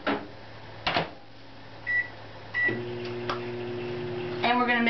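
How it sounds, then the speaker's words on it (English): A kitchen microwave oven running briefly to soften cream cheese, a low steady hum with a couple of short beeps and clicks, quiet and close by. "We're going to soften our cream cheese. Take about 6 seconds in the microwave."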